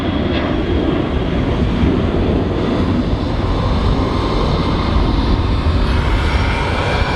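A Ryanair airliner takes off at Manchester Airport, a loud, continuous deep jet roar that holds steady and close throughout.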